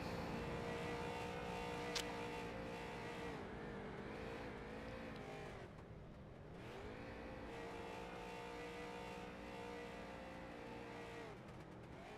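SOAR street stock race cars roar steadily at Oxford Plains Speedway, engines droning at high revs with a dip and recovery as they come off throttle and accelerate again, heard from a distance without commentary.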